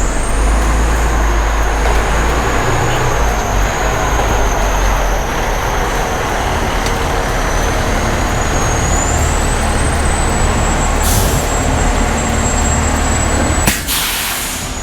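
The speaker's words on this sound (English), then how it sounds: "That was the brakes letting out." Loud, continuous rush of a fire truck with a long hissing release of its air brakes, ending in a sharp burst near the end.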